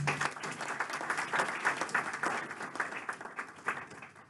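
Applause at a grand marshal luncheon, a crowd clapping steadily from moderate distance, swelling and then gradually thinning toward the end.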